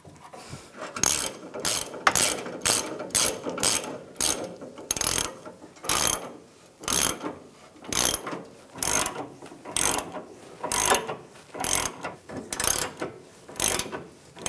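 Wrench ratcheting fuel pump module nuts on a 2011-2018 RAM 1500 3.6L, a rapid series of sharp, close clicking bursts in regular strokes with brief pauses between, no talk.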